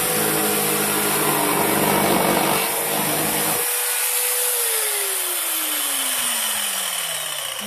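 A jigsaw cutting through wood at a higher speed setting gives a loud, steady buzzing saw noise that runs without a break, then the motor winds down and its pitch falls away near the end.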